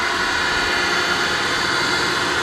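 A Webb Whacheon lathe driven by a VFD spins up toward 1800 RPM, a loud, broad, jet-like whoosh and whine holding steady throughout.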